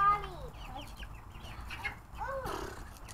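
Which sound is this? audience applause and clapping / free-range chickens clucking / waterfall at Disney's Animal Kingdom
free-range chickens clucking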